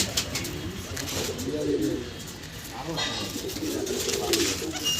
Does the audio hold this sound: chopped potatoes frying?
no